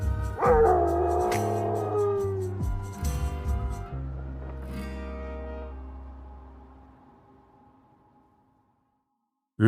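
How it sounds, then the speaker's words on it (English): A dog howls loudly and close, long wavering howls with a few yips over several seconds, then fading into quiet before a sudden burst at the very end. "a howler who howls, just because that's what he's always done."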